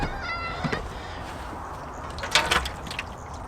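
Hungry cats meow for their food inside a caravan, with a few faint, high-pitched meows early on over a steady background hum and a brief clattering knock later.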